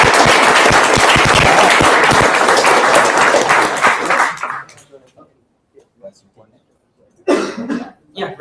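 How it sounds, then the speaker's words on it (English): A burst of loud, close audience applause at a hackathon results announcement, vigorous clapping for about four seconds that cuts off abruptly, followed by scattered sounds, a cough and then people talking. "Big round of applause."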